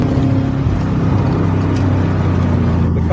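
A warmed-up Corvette C4 pulling hard in second gear at about 100 km/h, its engine a loud, steady, close drone with road rumble, with no talking.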